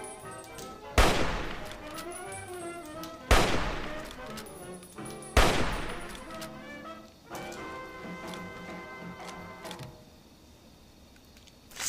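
Rifle gunfire in Fallout 3, three loud sharp shots spaced a couple of seconds apart, each ringing out over a continuous game background with music-like tones.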